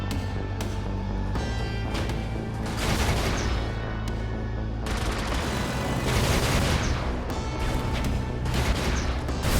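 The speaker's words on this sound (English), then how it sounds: "That's the explosion part of the pipes." Exploding pipes in Brigador, a rapid series of loud booming blasts and crackling detonations that roll on continuously, dense and heavy from start to finish.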